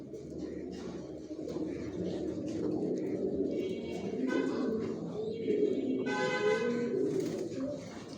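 Racing pigeons in a breeding loft coo steadily in a dense, close chorus, with a few brighter chirps rising over the soft rolling drone, and no voices over it.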